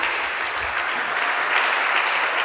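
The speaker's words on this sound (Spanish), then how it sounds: "Demos aplausos al Señor," A church congregation breaks into loud, dense applause, many hands clapping together in a steady wash for a few seconds, close and full.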